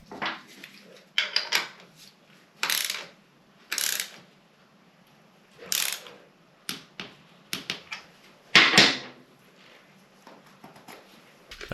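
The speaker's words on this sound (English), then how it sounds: "And tighten it to the required torque." A new oil filter is tightened on a Triumph Rocket motorcycle, giving scattered sharp metallic clicks and ratcheting bursts in irregular clusters separated by quiet gaps, close and fairly faint, with no talking.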